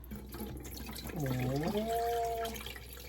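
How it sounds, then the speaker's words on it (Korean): Rice being rinsed in water at a home sink, with running and sloshing water throughout and a voice talking over it. "쌀을 깨끗이 씻어 버리자"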